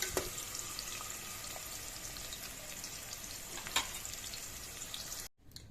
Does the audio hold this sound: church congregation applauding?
no